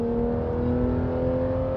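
A 2016 Porsche GT3 RS engine revving at moderate RPM, a steady, loud mechanical hum with strong harmonic tones, heard from inside the car without talk.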